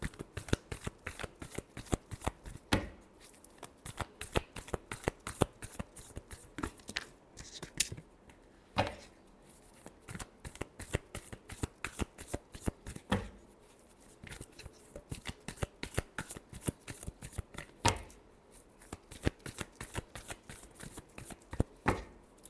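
A deck of tarot cards is shuffled over and over for a Hindi weekly Aquarius reading, giving a steady run of crisp riffling and slapping bursts with brief pauses between shuffles.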